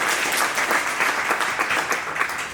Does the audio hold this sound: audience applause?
yes